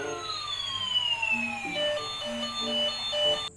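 White toy ambulance siren wailing in a sweeping, repeating electronic tone, close and steady for a few seconds before cutting off abruptly.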